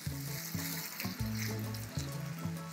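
Onion paste masala fries in a pan for a prawn gravy while a spoon stirs it, a sizzling hiss broken by repeated scraping strokes and low tonal rubbing every half second or so, close and moderately quiet.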